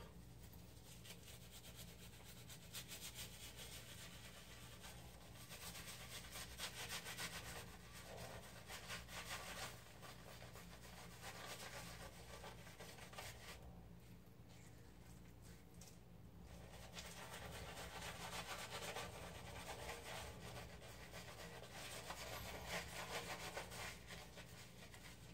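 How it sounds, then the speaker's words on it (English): A razor shaves off four days of beard growth, a faint, continuous raspy scraping that rises and eases in long strokes, close and quiet with no talking. "I'm actually shaving off 4 days of growth."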